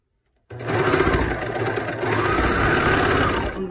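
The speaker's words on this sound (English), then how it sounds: "going to finish this back seam up." Sewing machine stitching a back seam, starting abruptly and running at a fast, steady buzzing whir close up, with a slight change in pitch midway and no talking.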